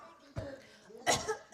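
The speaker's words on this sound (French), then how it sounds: "Mais mamie, tu tousses?" A grandmother coughs twice, a short cough followed by a louder, harsher burst, close by in a quiet room.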